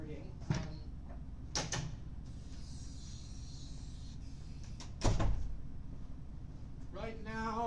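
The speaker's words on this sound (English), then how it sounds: "I should probably close the door right now." A door in a university makerspace lab is pushed shut, giving a couple of sharp knocks and a solid thump against steady room hum, and a voice is heard speaking briefly near the end.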